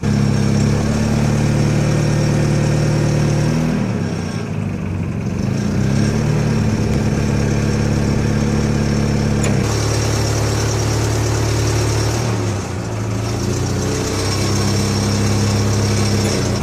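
A forklift engine runs loud and close throughout, its pitch dipping and rising as the throttle is given while the control lever tilts the mast up and back; no talking.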